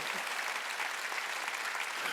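Congregation clapping during a Korean church Wednesday worship service, a faint, steady, even wash of many hands heard from a distance without pause.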